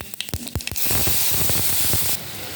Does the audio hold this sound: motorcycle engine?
no